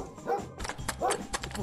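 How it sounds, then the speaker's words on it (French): A dog barks several times in quick succession, close and moderately loud, with a couple of sharp yips between the barks. "Qui a laissé sortir le chien?"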